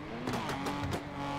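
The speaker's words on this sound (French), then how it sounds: "J'ai des gros bruits de pot d'échappement" Brief burst of engine and exhaust roar from a video game car, a quick revving rumble over a constant droning background.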